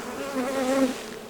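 Bees buzz in a brief close pass at a sustainable beekeeping site on Aruba, a steady droning hum that rises and wavers in pitch for under a second before fading.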